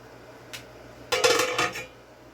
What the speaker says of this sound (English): so I've got 4 jars going in the canner